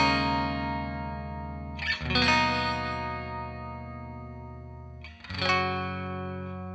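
Clean amp tone on a NUX MG-30 guitar processor with only reverb: two strummed electric guitar chords a few seconds apart, each decaying into a smooth ambient tail, up close with no talking.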